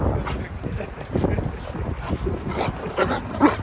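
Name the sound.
dog barking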